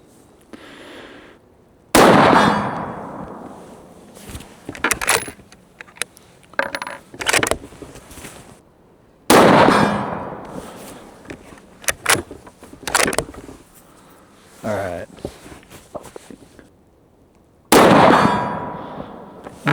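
A Stevens 334 bolt-action rifle in 6.5 Creedmoor fires three loud shots spaced several seconds apart, each a sharp blast with a decaying tail, separated by metallic clicks and clatter of the bolt being worked.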